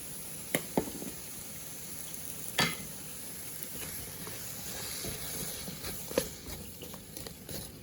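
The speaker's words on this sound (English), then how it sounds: "I'm going to be letting them saute" Shrimp sauté with spices and garlic in a pan, giving a steady close sizzle and hiss with a few sharp clicks and taps of stirring.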